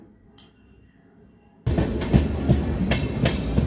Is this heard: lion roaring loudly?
no